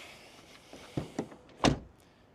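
A 2024 Ford Kuga facelift door closing via keyless entry: a few soft clicks and light thuds, then one solid, close-up door thunk near the end, fairly quiet overall with no talking.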